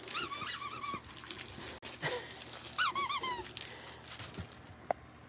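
A squeaky plush dog toy from a Bark Box squeaks in several quick bursts of high, wavering squeals, with pauses and a dog's faint snuffling and handling noises between them.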